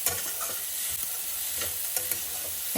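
Rice stirred into sautéed garlic in a pan, with a soft continuous sizzle and scraping, shuffling stirring noises close by, no talking.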